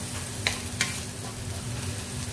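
Garlic browning in a pan for tofu sisig gives a steady close sizzle with a low hum underneath. Two brief utensil scrapes come early, and no one talks.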